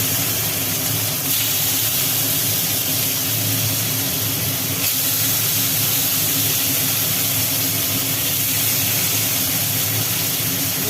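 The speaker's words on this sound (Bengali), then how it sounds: "তেলটা গরম হয়ে গেল এইবার এর মধ্যে নুন হলুদ মাখিয়ে রাখা শোল মাছগুলো ভেজে নেওয়া হচ্ছে" Salted, turmeric-coated snakehead fish frying in hot oil, a steady loud hissing sizzle that carries on without pause throughout, while rain falls in the background.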